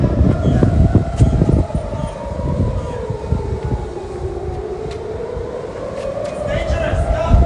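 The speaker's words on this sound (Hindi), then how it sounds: "यहाँ पे सायरन हर तरफ से बज रही है" Air raid sirens in Israel wail with a slow rising and falling pitch over a busy, noisy scene of people running, with voices and commotion underneath throughout.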